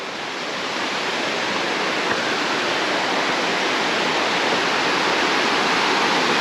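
Rushing water from the falls on Panther Creek Trail, heard from atop a rock face above it, makes a constant broad roar that stays loud and steady throughout, with no voices.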